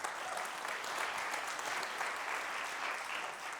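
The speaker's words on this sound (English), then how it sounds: "Let's give a round of applause for that." A school district audience at a State of the Schools address claps in a steady, sustained round of applause, fairly distant and even throughout.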